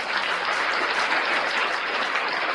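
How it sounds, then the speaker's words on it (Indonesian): Dense audience applause filling a hall, a steady even roar of many hands clapping throughout, with no talking over it. "Tepuk tangan untuk Yudas"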